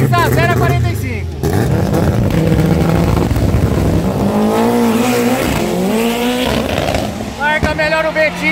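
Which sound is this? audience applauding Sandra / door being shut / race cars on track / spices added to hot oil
race cars on track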